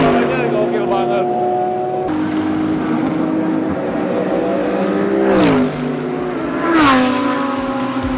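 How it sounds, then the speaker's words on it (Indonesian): V10 and V8 race car engines roar during GT World and Subaru BRZ qualifying at an Indonesian circuit, a loud, sustained howl with two cars sweeping past, their pitch rising and falling. "Apalagi yang mesin-mesinnya V10, V8, suaranya gokil banget."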